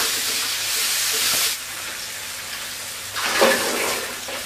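Onions sautéing in a hot pan give a loud, steady hissing sizzle that eases off briefly midway, then surges back.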